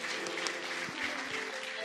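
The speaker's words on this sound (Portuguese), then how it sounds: "E Jesus, vamos dar um aplauso ao Senhor, Rei dos Reis." Church congregation applauding the Lord during a family worship service, steady dense clapping filling the room with a faint voice underneath.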